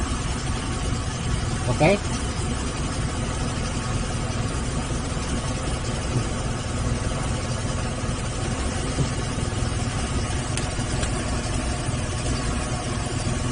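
A Suzuki Zebra Espass EFI engine runs with a Rotax fuel pump, holding a steady, even idle rumble throughout, with a brief spoken word near the start.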